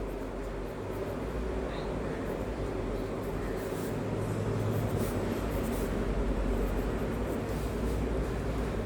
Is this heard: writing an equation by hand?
yes